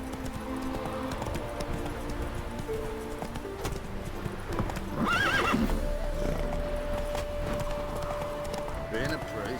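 The horse Roach in The Witcher 3 gallops with rapid rhythmic hoofbeats and gives a loud whinny partway through, under game music and talk.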